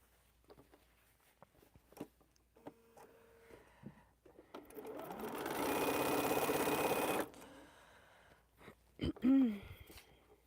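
A sewing machine stitches quilt fabric in one steady, fairly loud run of several seconds, starting and stopping abruptly, with quieter handling clicks and brief movements before and after.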